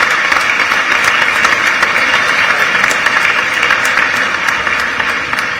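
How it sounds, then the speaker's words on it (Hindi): Loud, dense applause from the audience at a government launch event in Chhattisgarh fills the hall as a steady, even wash of clapping for several seconds, with no talk over it. "आप सभी से निवेदन, जोरदार तालियां।"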